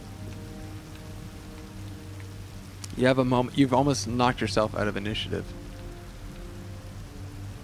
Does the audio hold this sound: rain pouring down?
yes